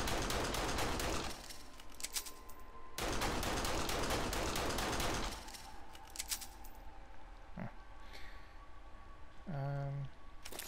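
Pistols fire in the PSVR horror shooter Kill X. Two long stretches of rapid, dense gunfire are followed by quieter game sounds and a few short isolated hits.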